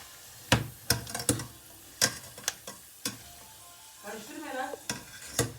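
Sharp scraping knocks of a utensil against a pot come at irregular intervals over a quiet sizzle, with brief murmuring voices in between.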